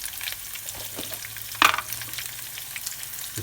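Thai chili hits a hot oiled pan while cooking Thai beef with chili and basil, giving a steady crackling sizzle with a sharper burst of spitting as the chili lands, then settling back to a continuous fry.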